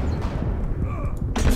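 Grenade launcher fire in a video game: a muffled thump and rumble, then a sharper bright burst near the end, with low game noise and a bit of voice throughout.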